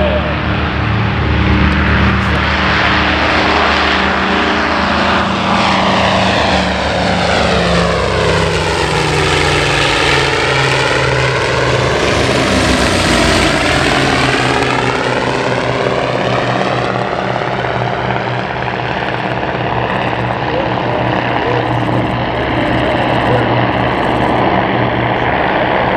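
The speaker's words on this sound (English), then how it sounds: "There are only six of these aircraft that are actively flying in the" A Grumman F7F Tigercat, a twin-piston-engine warbird, roars past at an airshow, its propeller drone swelling loud as it approaches and then dropping in pitch as it passes and recedes, with a crowd-filled, open-air setting.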